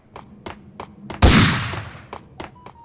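Gunfire in a shooter video game: a loud blast burst at the middle, set among a steady run of sharp, evenly spaced single shots before and after, with no talking.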